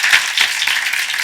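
A church congregation at a Korean Sunday morning worship service applauds in a brief, dense burst of many hands clapping together.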